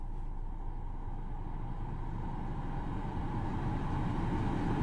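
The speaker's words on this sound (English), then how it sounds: "The fans are really loud in this car." Car air conditioning fans blowing hard inside the cabin, a steady, loud broadband whoosh with a low hum that holds constant throughout, no talking over it.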